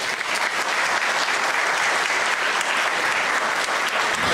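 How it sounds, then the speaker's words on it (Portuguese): Church congregation applauding a newly baptized member during a confirmation and baptism service in Florianópolis, a dense, even wash of many hands clapping at once, loud and continuous without pause. "Saudamos com uma salva de palmas."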